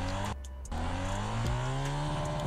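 Motorbike engine in the mobile game MX Bikes, a steady revving whine that briefly drops out, then rises in pitch as the throttle is held open, sounding close and continuous with no voices.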